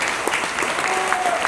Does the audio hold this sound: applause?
yes